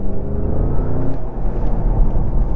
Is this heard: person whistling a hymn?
no